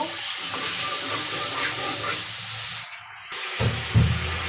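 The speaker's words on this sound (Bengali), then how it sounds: "হালকা একটু পানি দিয়ে দেব" A little water poured into a sizzling pan of masala for a fish curry, a steady splashing hiss followed by a sudden drop and a short burst of bubbling sizzle at the end.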